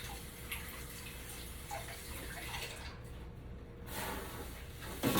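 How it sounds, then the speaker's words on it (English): Tap water runs steadily in a home kitchen while hands are rinsed under it, a close, continuous hissing splash with slight shifts in texture as the hands move through the stream. "I'm washing my hands"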